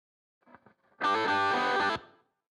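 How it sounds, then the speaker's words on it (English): A soloed lead guitar track with effects and distortion, opening with faint finger scrapes and squeaks on the strings, then a loud sustained distorted chord that rings for about a second before cutting off. "So there's just a little bit of noise there right before the guitars start playing."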